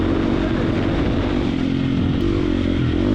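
Triumph TF250X motocross motorcycle ridden on a rough, rocky trail, its engine droning loud and steady and close throughout, with rattling clatter over the terrain.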